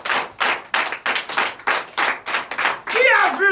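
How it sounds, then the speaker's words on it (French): A church congregation at a night deliverance service claps in acclamation, a brisk rhythmic run of hand claps, with a voice rising over the clapping near the end. "Donnez l'acclamation de Dieu."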